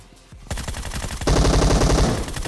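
Automatic gunfire in PUBG KR, a short single burst followed by a rapid, loud, sustained volley of close machine-gun shots, with no talking.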